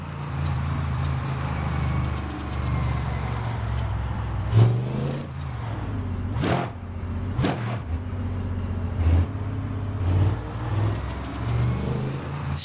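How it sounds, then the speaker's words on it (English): A Toyota race car engine in Le Mans Ultimate drones steadily under load, with several sharp rising and falling pitch sweeps from gear changes and throttle lifts, and other cars' engines passing close by. "Strange sound to come from basically a Toyota."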